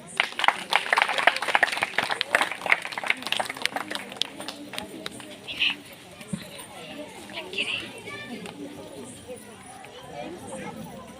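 An audience claps for a children's group at a village cultural night, bursts of clapping strongest at first, then thinning out beneath someone talking over a loudspeaker.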